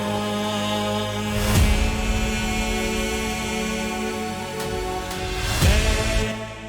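A heavily processed vocal for an epic trailer soundtrack inspired by The Last Of Us, sustained and layered with dense harmonics, swelling twice with soft breathy accents and no speech over it.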